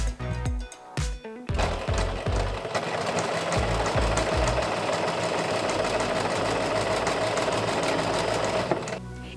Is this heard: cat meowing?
no